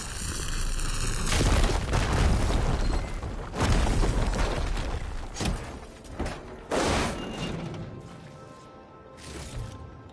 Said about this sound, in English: Should be able to blow up this fire gleam.